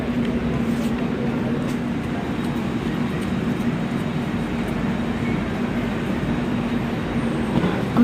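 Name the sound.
train at Santragachi railway station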